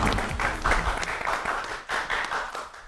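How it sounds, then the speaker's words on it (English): An audience at a live startup pitch competition finale applauds the teams, a dense burst of clapping that swells and fades slightly before picking up again, fairly close and loud. "Let's get another round of applause for all the teams."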